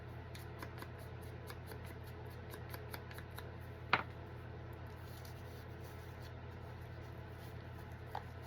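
Scissors snip through a piece of music page paper in a quick run of soft, faint cuts, with one sharper snip standing out, in a quiet room.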